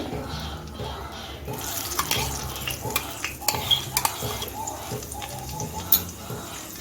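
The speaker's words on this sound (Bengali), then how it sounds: "মিক্সিং জারটা দিয়ে একটু জল দিয়ে দিচ্ছি" Water poured from a mixing jar into a pan of spice paste for a Mughlai egg curry, a wet splashing pour mixed with clinks and scrapes of utensils on cookware, close and fairly steady.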